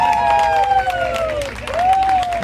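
An audience claps for an orchestra at a live Latin tribute concert. Steady, fairly loud applause fills the space beneath a strong voice or held melodic tones that slide up and down.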